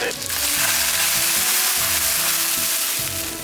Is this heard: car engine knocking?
no